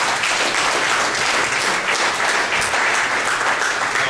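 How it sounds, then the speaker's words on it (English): Full-room applause for Steve Carl at an ExecuLeaders business gathering, a thick, sustained roar of many hands clapping at close range without a break. "Everybody give a round of applause to Steve Carl in the back of the room."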